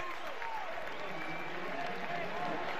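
A football stadium crowd at a Baylor versus Oklahoma college game cheers in a sustained roar, loud and continuous throughout, blended with a commentator's voice.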